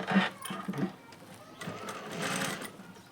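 Sewing machine stitching together leftover blouse fabric pieces, running in short bursts with pauses, a voice speaking over and between the stitching.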